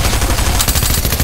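Rapid machine-gun fire in the Fortnite video game, a loud, dense burst of shots with no talk over it.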